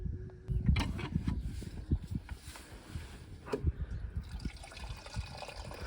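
Water runs steadily from a tap, splashing and trickling nearby with a continuous gurgle over several seconds.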